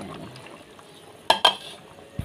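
Chopped okra and eggplant dropping into a cooking pot, heard as two sharp clattering impacts close together, followed by a soft thud, over quiet kitchen background.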